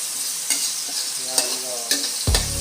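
Pork going into a pan with tomatoes for sinigang sizzles steadily in a broad hiss, with a few sharp stirring scrapes and a heavier clatter near the end.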